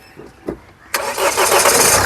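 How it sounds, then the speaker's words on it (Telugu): A couple of soft clicks, then a 2015 Mahindra XUV500 W6 engine cranks once and catches, settling into a loud, steady rumble close by. "సింగిల్ సెల్ఫ్లో కార్ స్టార్ట్ అవుతుంది"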